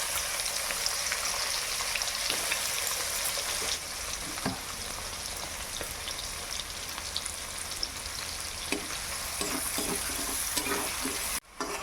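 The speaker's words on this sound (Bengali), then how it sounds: "পেঁয়াজটা ভালোভাবে ভাজা হয়ে গেছে" Sliced onions sizzle steadily in hot oil with a spoon of ghee for a mutton biryani, a dense continuous crackle with occasional louder spits and a scrape or two near the end.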